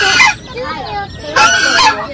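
Chick or poultry calls at an outdoor event, two loud bursts of honking, squawking bird cries at the start and end, with thinner chirps in between.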